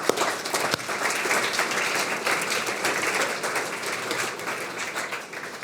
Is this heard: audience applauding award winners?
yes